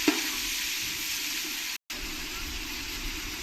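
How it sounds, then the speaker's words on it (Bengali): Onions frying with spices in a pan give a steady, close sizzle with a brief dropout partway through; no one speaks. "পেঁয়াজগুলো দিয়ে আমি একসঙ্গে ভেজে নেবো সঙ্গে মিশিয়ে নেবো"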